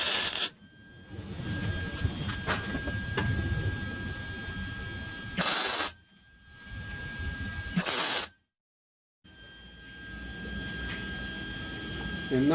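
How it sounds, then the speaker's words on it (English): Spot welding on the front frame rail of a 1969 Mustang fastback: two short, loud, crackling bursts stand out, separated by a low steady hum and a brief silence. "go on the inside and spot weld that"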